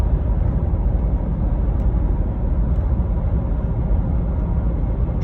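Inside a moving 2010 Jeep Grand Cherokee Limited with the 5.7 HEMI and the AC blaring, a steady, even drone of road and engine noise continues without a break, with no talk.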